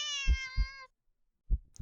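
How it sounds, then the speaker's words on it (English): A cat gives a deep, drawn-out meow with a strong harmonic tone, lasting under a second over soft low thumps like a heartbeat, which continue after a short silence. "The cat meows at you again, but it sounds much deeper than earlier"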